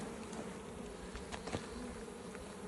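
A faint, continuous hum of honeybees buzzing at a hive, with occasional individual bees passing closer; quiet and steady, no voices.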